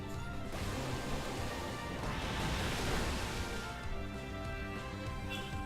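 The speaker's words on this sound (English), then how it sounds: "And there's the Waterfall." A Pokémon Waterfall move sound effect from a video game, a loud, dense rushing splash like crashing surf that swells in the middle and then tapers off, heard alone.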